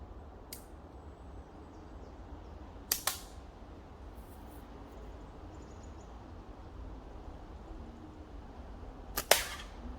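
Slingshot shots fired in the woods: three sharp, snappy releases spaced several seconds apart, each a brief crack over a quiet outdoor background with faint ambient noise.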